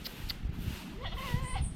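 A goat kid bleats at a farm near a bamboo hut in a rising, wavering cry, with a quieter bleat before it, over low rumbling background noise.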